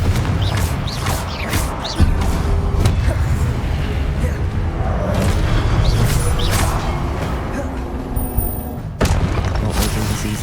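Loud magical blasts from a Confringo fire spell in Hogwarts Legacy boom over a dense game soundtrack, with a heavy impact near the start and another sharp burst toward the end.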